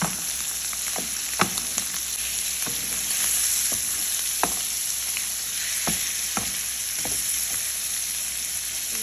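Liver frying in a pan, home Egyptian cooking: a steady broadband sizzle runs throughout, punctuated by sharp spatters and pops at irregular intervals, close and fairly loud with no voices.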